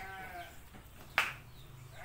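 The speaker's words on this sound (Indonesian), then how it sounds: "Di sini sangat banyak sekali stok-stok kambing, mulai jantan, dara, dan juga cempe-cempe, sangat banyak sekali." Goats on a goat farm holding bucks, young does and kids: a wavering bleat at the start, then a sharp close clatter, with faint farm ambience behind.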